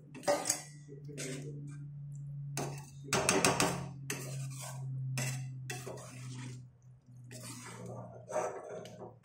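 A spoon scrapes and knocks against a metal pot while cooked dal is stirred into mixed-vegetable sambar, giving irregular clinks and wet sloshing over a steady low hum, close and moderately loud.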